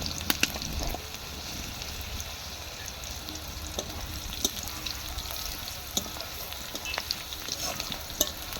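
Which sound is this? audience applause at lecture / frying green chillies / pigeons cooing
frying green chillies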